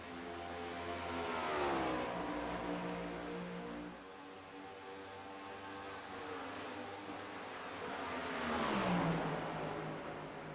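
Race cars on a dirt or asphalt oval swell past in two long passes, engines rising and fading as they approach and recede at a moderate distance, with no talk over them.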